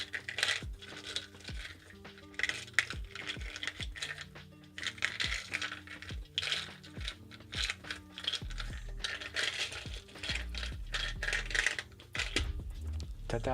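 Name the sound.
rune stones being shuffled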